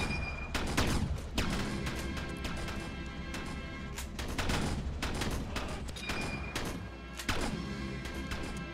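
Rapid bursts of gunfire from the Ravenfield video game, set in a First World War battle, crack out in repeated loud volleys with sharp impacts and blasts between them, alone without talk.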